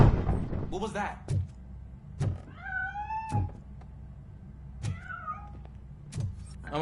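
Cat meows in the video game RoboCop: Rogue City, several rising, tonal calls spaced out among sharp thunks and clunks, fairly close and moderately loud over a low game ambience.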